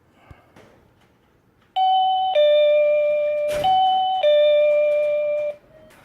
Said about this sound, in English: I'm going to go down and ring this thing just so you can hear it.